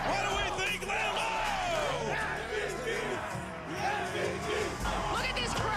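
A football stadium crowd at a Thursday Night Football game, Packers against Bears, roaring and shouting in a dense, continuous wall of cheering with yells rising out of it, steady and loud throughout.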